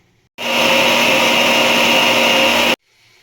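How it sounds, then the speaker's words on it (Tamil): A mixer grinder whirs loudly and steadily for about two seconds, grinding coconut, cumin, pepper and curry leaves into a paste, then stops abruptly. "நம்ம இதை பேஸ்ட்டாக அரைச்சி எடுத்துக்கலாம் வாங்க"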